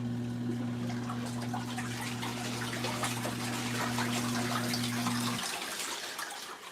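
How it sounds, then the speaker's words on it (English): Water splashes and swishes inside an LG ThinQ MEGA washer on a deep wash cycle, close and steady. A low motor hum runs underneath and cuts out near the end, leaving the watery trickle alone. "that thing just splashed a little bit."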